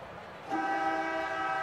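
At a rugby sevens match between Russia and Wales in Hamilton, a loud, sustained electronic hooter sounds after a short pause and holds its steady tone to the end.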